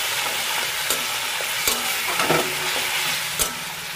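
A spice paste with turmeric and chili powder being sautéed in a wok, with a steady close sizzle and a few sharp scraping clicks of the spatula stirring through it.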